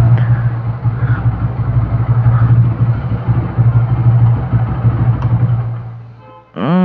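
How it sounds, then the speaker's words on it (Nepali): A Yamaha FZ V2 motorcycle engine idles close by with a steady low rumble and a rhythmic thrum, ending in a short rising whine. "यो चाहिँ मेरो साथीको बाइक हो एफजेड V2"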